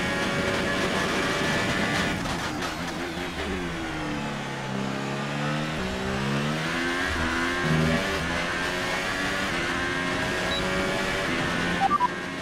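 A Formula 1 car engine in F1 2018, racing at the Hockenheim German Grand Prix in seventh gear, a loud sustained high-revving whine that dips and climbs again over several seconds, with no talking.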